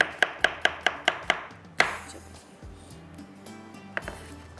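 Knife chopping ridge gourd and potatoes on a cutting board, a quick run of about seven sharp, evenly spaced strikes followed by a single heavier chop and another later, close and clear.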